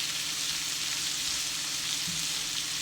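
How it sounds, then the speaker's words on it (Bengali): Washed dried fish sizzles in hot oil with garlic and onion, giving a steady, close, hissing fry that stays even throughout with no talking. "রসুন পেঁয়াজ দেওয়ার পরে আমি এখন সেই তেলে ধুয়ে রাখা শুটকিটা দিয়ে দিচ্ছি।"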